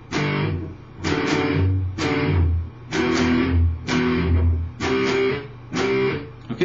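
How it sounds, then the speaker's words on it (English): Distorted electric guitar plays power chords from the intro of a song. Loud, chugging strummed chords come in rhythmic groups with short gaps between them, up close and alone. "basically doing power chords with one variation"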